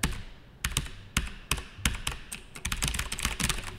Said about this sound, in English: That makes you feel good about typing.